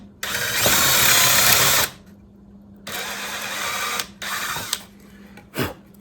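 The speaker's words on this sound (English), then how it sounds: "We'll drill our holes and add some rope." A power drill bores holes through a wooden board for a hanging bench planter, running in three loud bursts separated by short pauses, with a brief final whir at the end.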